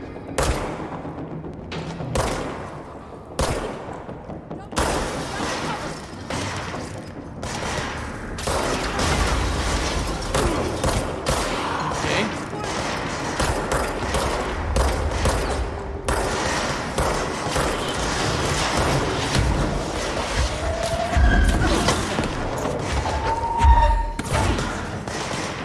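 Enemy grenade launcher fire and explosions in the video game Control, scattered heavy thumps and booms among gunfire bursts over a rumbling game backdrop, no talk.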